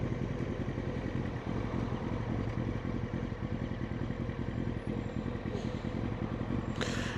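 A motorcycle ridden on a 30 mph dual carriageway during a CBT or Mod 1 lesson is slowing under braking with gears going down, giving a steady close engine drone over road and wind noise.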